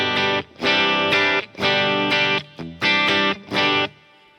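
An electric guitar on a Line 6 multi-effects pedal with a booster added plays five loud, gritty chord bursts, each held briefly and cut off with short gaps, the last one ending in a fading ring with no voices.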